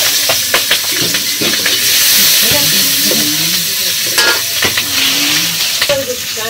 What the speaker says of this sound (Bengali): তো করে পেঁয়াজ দিছে কাঁচা মরিচ দিয়া, তারপর আলু দিয়া ভাজা ভাজা করতেছে